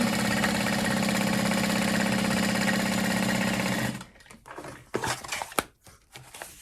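A sewing machine bastes a handbag lining, running in one steady, fast continuous buzz for about four seconds, then stopping and leaving light handling clicks and rustles.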